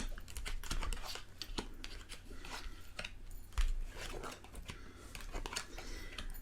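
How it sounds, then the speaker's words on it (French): Tarot cards are turned over and handled on a table during a reading, giving soft, close, quiet flicks and rustles with small taps in an irregular rhythm. "je vais retourner les cartes"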